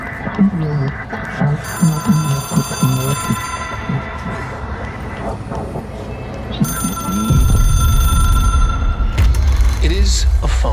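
A phone rings in the video game Control, its bell tones sounding repeatedly and fairly loud over a game soundtrack, with a voice talking through part of it.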